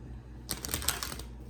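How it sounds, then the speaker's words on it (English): A tarot deck is shuffled by hand in a quick run of crisp, papery card flicks and riffles lasting about a second, fairly close and alone after a brief quiet lead-in. "Let me shuffle a little bit."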